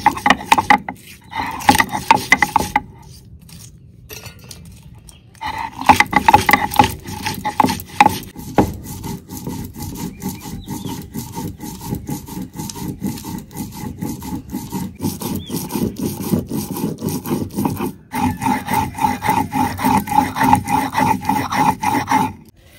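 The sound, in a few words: grinding spices on a grinding stone: mustard, cumin, coriander, chilli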